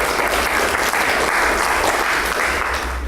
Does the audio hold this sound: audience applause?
yes